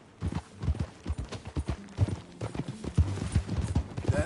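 Horse hooves clip-clop in a quick, uneven rhythm at close range, a ranch horse walking and trotting, with no talking over the steps.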